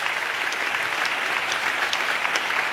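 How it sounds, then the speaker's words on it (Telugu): A church congregation bursts into loud, continuous applause, a dense wash of many hands clapping together that sounds fairly close and steady, with no one speaking over it. "చప్పట్లు కొడితే యేసయ్యకు స్తోత్రాలు చెప్దాం."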